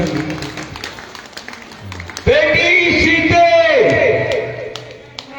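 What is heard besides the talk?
audience clapping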